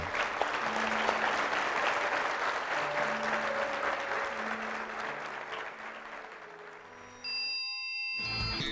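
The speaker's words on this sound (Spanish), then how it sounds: "Damos palmas al Rey." A church congregation claps hands together in sustained, even applause while sustained keyboard or organ notes ring underneath, the clapping thinning near the end before a brief return of sound.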